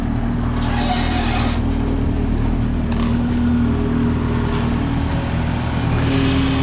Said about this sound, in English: Wow, it's almost a little hard for our skid steer.